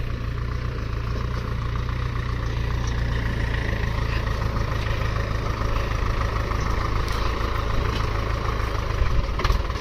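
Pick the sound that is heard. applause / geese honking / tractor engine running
tractor engine running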